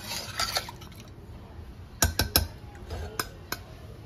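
A spoon stirs and scrapes through desi chicken curry in a metal pot, giving a few sharp clinks and knocks against the rim among soft wet squelches, close and without talk.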